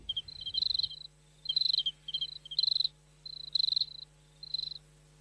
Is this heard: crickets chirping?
yes